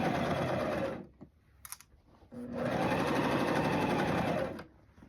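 A sewing machine stitches fabric for a jumpsuit in two fast, steady bursts of rapid mechanical whirring, separated by a short pause with faint handling clicks.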